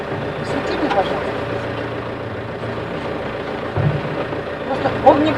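A yacht's engine rumbles at a low steady idle, with people talking nearby over the continuous drone.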